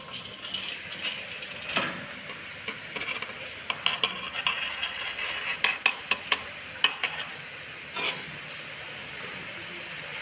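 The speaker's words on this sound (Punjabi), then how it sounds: "ਵਿੱਚ ਪਾਉਨੇ ਆ ਜੀ ਆਪਾਂ ਗਾਜਰਾਂ" Grated carrots going into a hot kadai for Punjabi gajrela, a steady soft hiss and sizzle with scattered sharp scraping clicks from a spatula against the pan, close and moderately loud, no talking.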